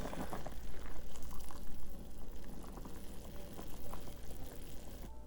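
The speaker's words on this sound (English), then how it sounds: "then drain the murky water." Murky water from boiling beef pours and splashes steadily as a pot is drained, a continuous bubbling, gurgling wash of liquid up close.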